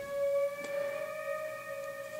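An album plays back quietly from a computer, with a few steady sustained tones holding throughout. A faint brief accent sounds midway, and there is no talk.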